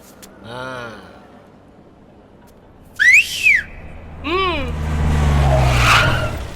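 Whistling in a courtroom, several rising and falling whistled notes standing out sharply against quiet room tone, with a rougher noisy burst toward the end.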